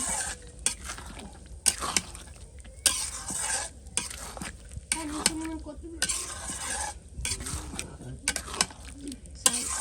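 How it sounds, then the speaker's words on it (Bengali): Food sautés in a pan while being stirred at length, a soft steady sizzle under repeated scraping strokes of a utensil, close and moderately loud. "এটাকে ভালো করে একটু সময় নিয়ে কষে নেব"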